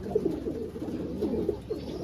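Racing pigeons cooing softly nearby, a few low throaty coos repeating over a steady background hum.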